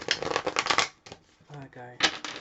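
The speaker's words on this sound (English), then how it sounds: "These cards are not easy to shuffle." A deck of tarot cards is shuffled in quick riffling bursts, stiff and papery, close by, with a person talking over and between the shuffles.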